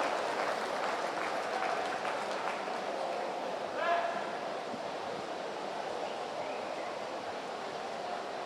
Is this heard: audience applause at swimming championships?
yes